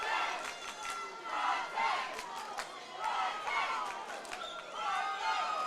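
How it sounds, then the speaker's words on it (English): A fight crowd at a Corporate Fighter event roars and cheers for a young Australian female fighter, a loud sustained swell of voices with shouts and whistles rising and falling throughout. "Great response from the crowd"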